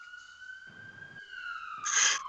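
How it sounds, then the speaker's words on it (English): An ambulance siren wails with a steady rising-and-falling tone in Salford, growing louder toward the end as it draws nearer; no voices. "The ambulance sirens sound closer."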